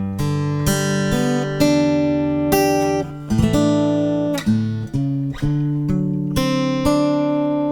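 Guitar chords strummed one after another with a melody on top, ringing and sustained, close and clear with no voices.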